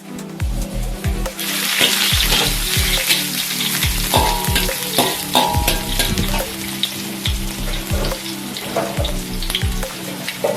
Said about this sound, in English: Stir fry the garlic and the shallot.